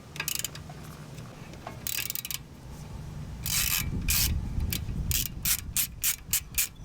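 Ratchet backing out a T30 Torx securing screw from a Mercedes C300 front brake rotor, first in scattered bursts, then a rapid, rhythmic run of close clicking strokes.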